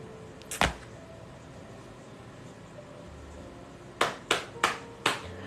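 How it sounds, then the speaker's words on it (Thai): A few sharp, close hand claps in a quiet room where durian is being peeled: one single clap early on, then a quick run of four claps near the end. "ปรบมือ"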